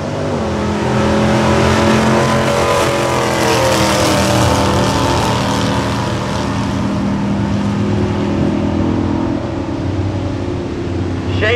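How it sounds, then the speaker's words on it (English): A Chevy II drag car runs down the strip in an outlaw bracket class, its engine a loud sustained roar that rises in pitch as it accelerates away and holds strong throughout. "Up against Shane Shahini into the right lane and the Chevy 2."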